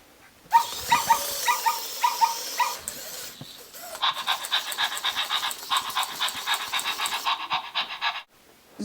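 The Zoomer interactive robotic toy dog gives a short run of clipped electronic barks, then a long stretch of rapid, rhythmic synthetic panting. The sounds are close and moderately loud, with no talk over them.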